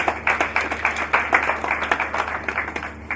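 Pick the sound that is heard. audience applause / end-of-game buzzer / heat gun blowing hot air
audience applause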